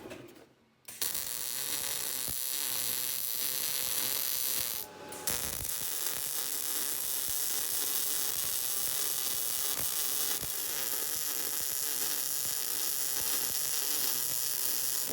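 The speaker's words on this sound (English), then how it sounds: "So I have this clamp on here, I'll weld over here, and that should equalize it." A welder runs a bead fixing a steel flange to a camera stand. The crackling arc buzz sounds close and steady, with a brief pause between two long bursts.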